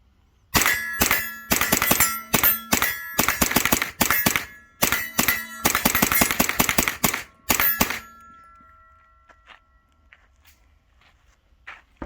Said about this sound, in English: We'll send the bolt home, do it again. This is my 50 round test.